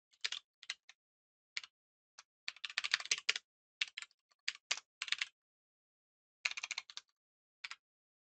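Typing on a computer keyboard while writing code, with irregular bursts of key clicks: short isolated taps alternating with quick rapid runs, close and clear, with no talking.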